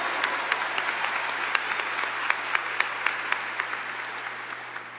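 A church congregation applauding at a Christian gospel service, with steady clapping that is rhythmic and slightly distant, fairly even in loudness and tapering off slightly at the end.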